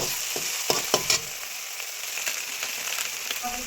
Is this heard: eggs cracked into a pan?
yes